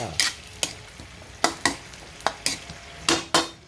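Ground meat and chayote fry and sizzle in a pan under a steady crackle, broken by about ten sharp, close stirring scrapes and clinks of a utensil against the pan.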